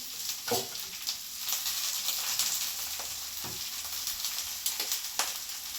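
Spring onion greens fry on a gas hob for vegetable fried rice, giving a steady close sizzle with occasional scraping stirs and clicks throughout, no voices.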